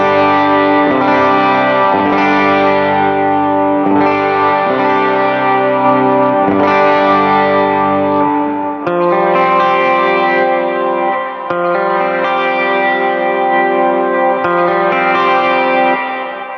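Electric guitar through an HX Stomp preset playing sustained chords, first a cleaner tone, then a thicker, gritty overdriven sound with more bite, ringing with slight echo.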